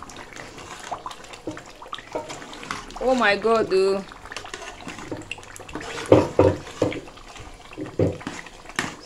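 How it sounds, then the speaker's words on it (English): Chicken stew bubbles and splashes in a cooking pot, giving soft intermittent liquid pops and spatters beneath frequent talking. "our stew is bubbling."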